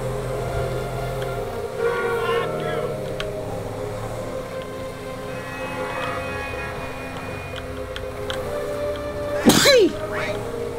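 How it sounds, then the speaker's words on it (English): A single sharp sneeze bursts out near the end, close and loud, over a steady hum of video game background sound. "Don't yell at me for sneezing"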